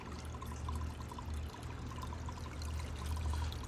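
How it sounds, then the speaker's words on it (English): Water drains down through an aquaponic grow bed of lava rocks and sand, a steady close trickling and pouring with faint bubbling, continuous and unbroken, with no speech. "But it drains down. Drains down through there."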